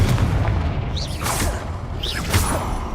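A Confringo spell detonates in the Hogwarts Legacy video game: two sharp fiery bursts with whooshing tails, about a second apart, over a steady low rumble of game ambience.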